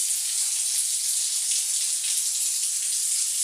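Steady hiss of water streaming from the lower tap of a modern shower, constant and fairly close, with no talking over it.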